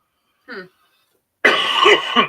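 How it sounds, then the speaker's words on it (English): An adult with a lingering cough during a gaming podcast gives a short throaty sound, then after a pause a louder, harsher cough and throat-clearing burst, close to the microphone. "Can't seem to get rid of this cough."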